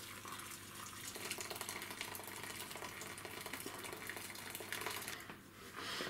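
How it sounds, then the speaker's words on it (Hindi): Hot water pours steadily into a cooking pot for Moroccan harira, a continuous splashing rush that runs for several seconds at moderate level, with no talking. "और अब इसके अंदर हम गर्म पानी डालेंगे।"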